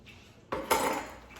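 A spoon or whisk scrapes and clatters against a bowl while fine yellow cornmeal batter is mixed for vegan Southern-style cornbread. Two close, short bursts of clinking stand out over a quiet kitchen.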